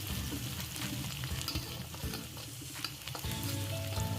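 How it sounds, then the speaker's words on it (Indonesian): Sliced shallots and garlic sautéing in a pan for Padang-style gulai korma, a steady close sizzle with stirring and scraping throughout, loud and continuous with no talk. "tumis bawang merah dan bawang putih yang udah diiris-iris"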